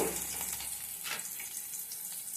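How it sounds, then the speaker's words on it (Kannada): Green chillies sizzling in hot oil for paneer burji, a bright hissing crackle with a few sharper pops and a watery, bubbling texture. "ಆಗ ಎಣ್ಣೆ ಕಾದ್ಮೇಲೆ ಇದಕ್ಕೆ ನಾನು ಹಸಿಮೆಣಸಿನಕಾಯಿನ ಹಾಕ್ತಾ ಇದ್ದೀನಿ"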